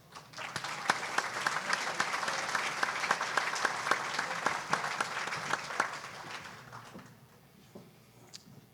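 Audience applause at an awards gala, a dense sustained clapping from a large crowd that fades out toward the end into quiet room tone.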